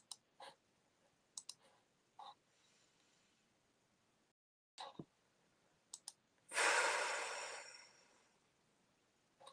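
A jaw gives several short, sharp clicks spaced irregularly in a quiet room. Near the end comes a loud, breathy sigh.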